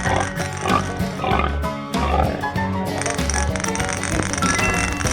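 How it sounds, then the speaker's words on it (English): A pig oinks in a 3D animal slide video game, grunting in short bursts over busy, loud game music and sound effects. "Pig."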